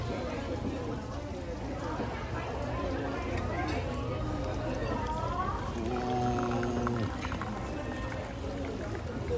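Coffee pours and drips from a press into a cup at a breakfast spot in LA, a soft liquid trickle under a background babble of voices and nearby talk.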